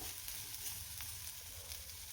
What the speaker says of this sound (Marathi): म्हटलं जाऊ दे ह्याच्यामध्ये परतून घेऊयात